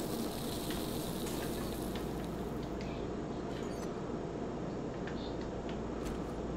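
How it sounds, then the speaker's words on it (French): Meat cooks over a fire in the survival game 7 Days to Die, a steady, soft sizzle and crackle running evenly throughout without a break. "Ah, ma viande est finie d'être cuite."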